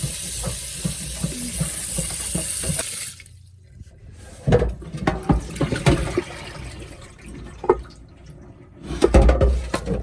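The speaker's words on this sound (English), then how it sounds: "Wash all the blood water away." Running water from a tap pours and splashes as soup bones are rinsed in a sink, a steady rush that stops, then returns as intermittent sloshing and clunks of bones being handled close by.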